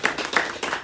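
People clap together at a community gathering in Delray Beach, a short burst of fairly soft applause with a few sharper claps standing out.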